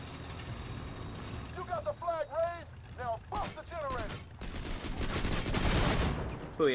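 Gunfire in Borderlands 2, a few loud shots and bursts in the latter half following a stretch of chirpy, warbling game sounds, with someone talking intermittently over the action.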